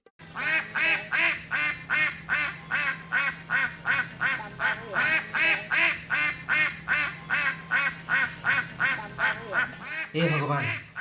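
A group of ducks keeps up loud, rapid quacking in a steady rhythmic run of calls, close by, with a voice speaking at the very end.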